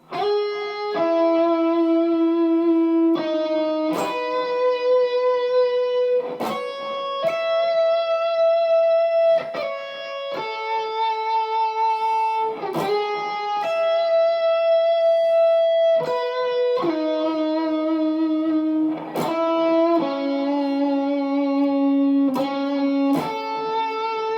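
Electric guitar picking out chord tones one note at a time, each ringing clearly with a bright, slightly effected tone, moving through changing chords with no voice.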